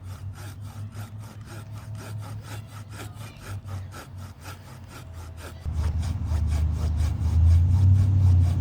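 A muddy folding saw from Walmart cutting through wood in steady, rhythmic back-and-forth strokes, close and rasping, growing louder and heavier toward the end.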